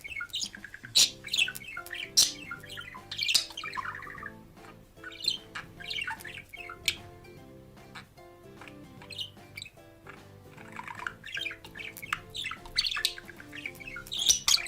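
Parrots in a pet shop give repeated chirps and squawks in irregular bursts, moderately near, over a steady low indoor hum.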